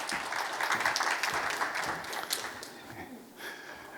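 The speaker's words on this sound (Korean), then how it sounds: "큰 박수로 맞아주시기 바랍니다." A conference audience at KSC&KREONET 2019 welcomes an invited speaker with a dense burst of applause that thins and fades toward the end.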